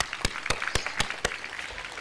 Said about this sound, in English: Do we appreciate them by clapping for them once more time?